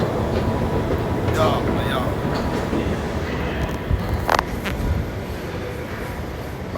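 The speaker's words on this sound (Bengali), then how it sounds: "পাক্কা দিন বাদে ট্রেন চললাম" A London Underground Elizabeth line train is heard from inside a carriage, with a steady, loud rumble of the moving train and a few brief squeals and knocks, while a voice talks over it.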